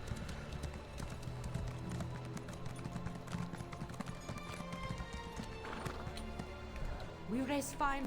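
A video game horse clip-clops along with steady hoofbeats, then gives a rising neigh near the end, while a person talks over the game sounds.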